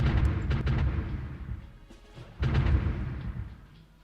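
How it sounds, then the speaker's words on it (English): Heavy artillery fire in the strategy game Supreme Ruler Ultimate, two deep booming blasts about two seconds apart, each rolling out into a fading rumble. "that's taking a heavy artillery fire from here"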